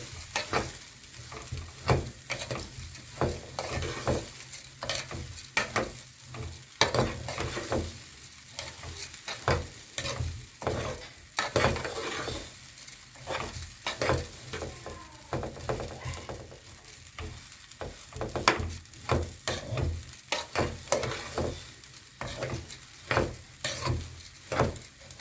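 Rice being stirred and fried in ghee for a clay-pot dish gives a close, steady sizzle broken by repeated scraping strokes of the spoon in an uneven rhythm, with no voices.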